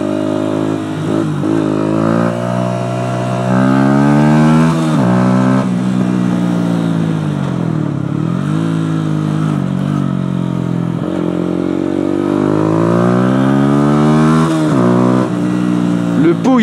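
Yamaha YZF 125 motorcycle with a fake Akrapovic exhaust, engine note rising and falling through revs in a steady loud drone with shifting pitch, with voices talking faintly over it.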